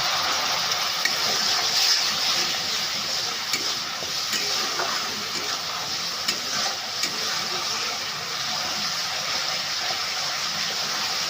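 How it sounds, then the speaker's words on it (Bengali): A little water goes into a vegetarian papaya and potato curry (dalna) in a hot pan, giving a steady, moderately loud sizzling hiss throughout with small bubbling pops and no talk. "অল্প একটু জল দিলাম।"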